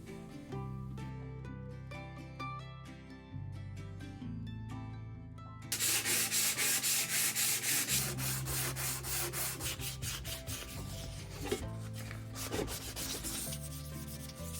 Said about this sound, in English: I'll use a sanding wheel for the rough sanding and then go down to hand sanding.